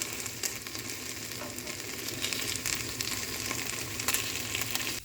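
Chicken tikka for biryani cooks uncovered over a low flame, giving a steady, soft sizzle with faint crackles and occasional light clicks running evenly throughout.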